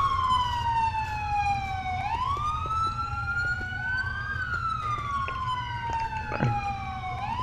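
Paramedic siren from the LCPDFR police game, wailing and sweeping up and down in pitch as the ambulance approaches along the road, loud and continuous over a low engine rumble.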